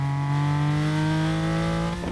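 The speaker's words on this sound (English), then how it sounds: "I hear a car." A car engine in an online shooter video game holds a loud, steady revving drone with rich harmonics, building slightly toward the end, with no talk over it.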